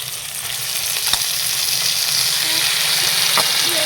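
Tomato and thankuni leaves fry and get stirred in a pan, a steady close sizzle with a few scraping clicks of the spatula and no voices.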